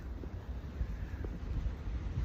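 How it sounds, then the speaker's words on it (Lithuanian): Strong wind blows on the Arctic Circle Trail in Greenland on a July morning, a steady low roar and buffeting against the microphone with no talking. "Turim didelį vėją."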